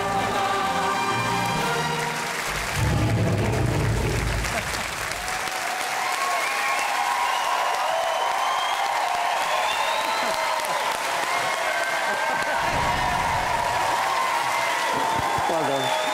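A talent show audience at the Britain's Got Talent 2017 semi-final breaks into loud, sustained applause and cheering that swells and fills the hall, with whoops and a presenter's voice rising over the crowd.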